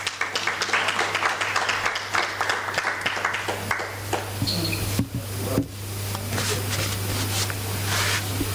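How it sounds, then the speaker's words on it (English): A conference audience claps at the UNILISA Conference 2025, the applause moderate and uneven with a steady electrical hum underneath and a few sharp knocks. "Give them a round of applause."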